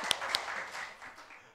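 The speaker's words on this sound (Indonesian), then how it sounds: "Kita tepuk tangan ya." Short burst of audience applause during a Sunday church service, a few sharp claps up front fading into a quieter patter over about a second and a half.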